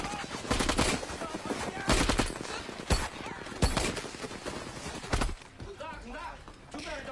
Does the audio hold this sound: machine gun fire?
yes